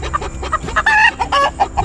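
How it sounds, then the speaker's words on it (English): Bantam chickens, a smaller breed of chicken, clucking in a busy, overlapping series of short calls, close and fairly loud, with no talking. "Bantams are just a smaller size chicken."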